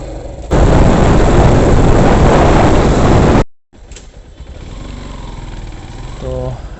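A motorcycle engine roars loudly and steadily while riding, then cuts out briefly and returns at a lower idle as the bike arrives and parks at Saprakata before a football quarter-final match.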